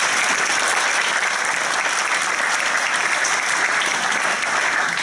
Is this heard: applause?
yes